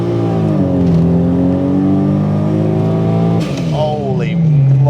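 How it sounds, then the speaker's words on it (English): A Toyota Supra MK4 pulls hard as its second turbo comes on, a loud, close engine rising through the revs, dropping briefly at a shift and then climbing again. "when that second turbo hits,"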